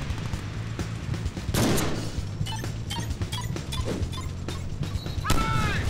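Gunfire from the Deadpool video game crackles through a six-second stretch of battle noise, with sharp bursts and scattered impacts over a steady low rumble.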